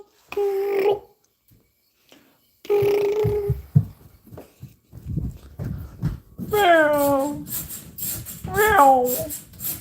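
A cat gives two short meows followed by longer, rising meows, close and clear, with a few soft bumps and noises between them.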